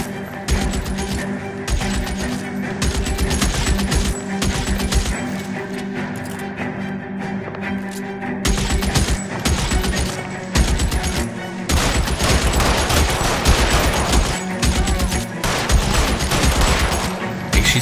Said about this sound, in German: Ich schieße ihn auf die Hand.